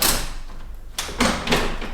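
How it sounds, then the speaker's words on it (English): A window-style door in an apartment in Spain being opened by its handle, a scraping slide followed by a couple of firm clunks from the latch and frame, close and loud. "So right now the handle's down, it's locked. If I move it this way, it's a door, I can open it, right?"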